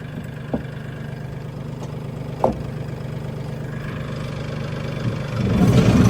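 A Mahindra 1635 tractor engine idles steadily and close by while the clutch is pressed, with a few faint clicks and knocks over the drone and a rise in engine sound toward the end.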